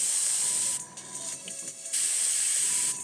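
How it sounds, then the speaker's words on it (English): An airbrush with a faulty trigger spraying paint for Warhammer miniatures, a loud close hiss that cuts down twice briefly and then surges back on, with no talking. "so do you see that it's still spraying as soon as I take my finger off of it?"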